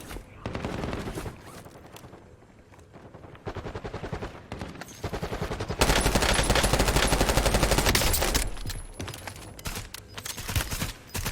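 Rapid automatic gunfire in a battle royale shooter video game, bursts of dense shots stopping and starting, then a long sustained barrage in the second half, loud and up close with no speech.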